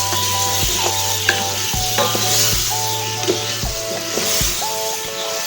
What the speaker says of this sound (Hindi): इसको इतना भूनेंगे कि ये टमाटर और प्याज एक जान हो जाएं